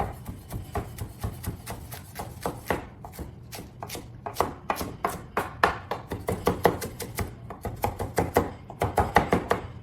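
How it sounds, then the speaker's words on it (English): A knife chops cruciferous vegetables on a board for a broccoli slaw ramen salad, striking in rapid, even, close thuds that run almost continuously, with a brief pause near the three-second mark. "I'm going to just chop this up."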